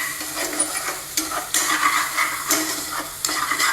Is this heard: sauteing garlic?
yes